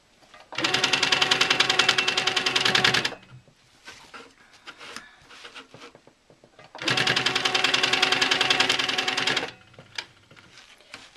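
Sewing machine stitching across fabric tabs and tails on a quilt block, two long sustained runs of rapid close-up stitching separated by a quiet pause with small handling clicks and rustles.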